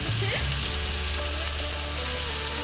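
Chicken cooking on a grill pan, a steady, moderate sizzle with a constant hissing texture and a low background hum, with faint sounds of movement near the start.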